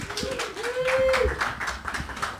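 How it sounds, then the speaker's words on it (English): An audience at a live stage show keeps clapping with a steady patter of hands, while a voice calls out over it. "You can keep clapping while I readjust"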